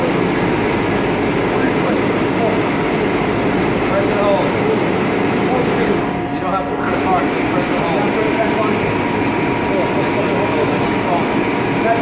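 A medical air compressor pump drones loudly and steadily with a low engine-like hum and tonal whine, while people talk over it nearby.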